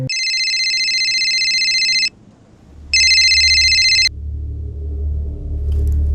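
A phone rings for an incoming call, two loud electronic ringtone bursts separated by a short gap, followed by low room rumble once the ringing stops.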